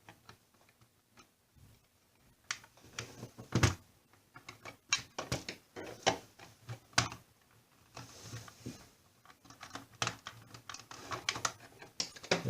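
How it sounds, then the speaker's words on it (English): Flathead screwdriver gently prying open the plastic casing of a toy blaster shotgun, giving faint irregular ticks, clicks and small creaks that pick up in pace and loudness after a quiet start. "I'm going to very gently take a flathead screwdriver and go ahead and pry this open"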